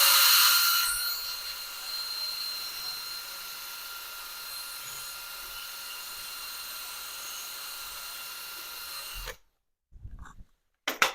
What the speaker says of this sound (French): Je vais bien gratter là.